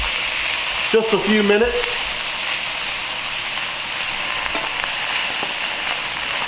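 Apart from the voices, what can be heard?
shrimp frying in a pan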